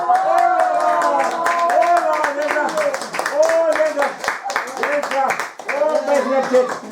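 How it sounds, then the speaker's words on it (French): An audience claps steadily and rhythmically at a children's games event, the dense claps continuing beneath voices and tonal sounds throughout. "Applaudissez-la très fort."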